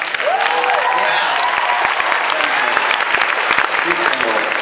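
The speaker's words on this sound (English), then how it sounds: "Everybody just applaud." A school assembly audience breaks into sustained applause, dense clapping filling the hall at close range with a few scattered cheers and murmurs mixed in.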